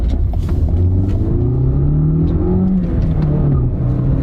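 A small, zippy new car with a manual transmission accelerates hard from close by, its engine note climbing steadily and loudly through the rev range with a brief rumble, and no voices are heard.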